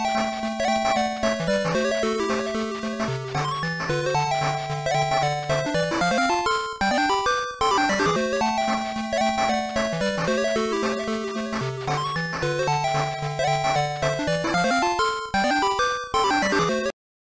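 Video game music from Sonic Drift plays loud and continuous, a busy chiptune-style melody with a steady bass line and repeating phrases, with no talking over it.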